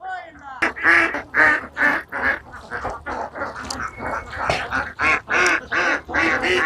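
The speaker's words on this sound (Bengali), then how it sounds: "হাঁসগুলো অনেক সারি সারি ভাবে হাঁসগুলো" Ducks kept in rows on a duck farm quack loudly and close by in a rapid run of repeated harsh calls that overlap, with a brief burst of human voice near the start.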